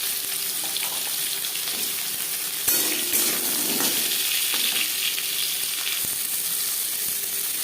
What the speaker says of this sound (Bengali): সর্ষে যখন ফুটতে শুরু করে দেবে সেই পর্যায়ে দিয়ে দেব আমড়া